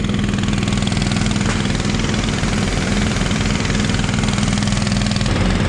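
A motor runs steadily to pump chemicals through 2-inch lines while filling a tank, a continuous mid-pitched idling drone that stays loud and even throughout with no talk.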